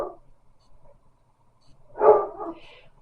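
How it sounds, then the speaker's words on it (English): Dogs bark in a quiet room, a faint yip at the start and then a louder burst of two or three barks close by, with no one talking. "Dogs are barking."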